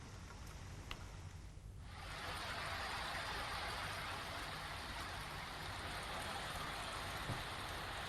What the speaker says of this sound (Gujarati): વાપી અને આસપાસના વિસ્તારમાં નોંધપાત્ર વરસાદ વરસ્યો